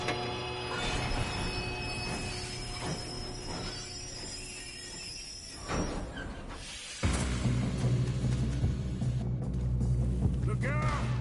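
Train rumbling and clattering along in Red Dead Redemption II, a steady mechanical roar with high squealing tones that shifts into a louder, heavier rumble partway through, with voices talking over it.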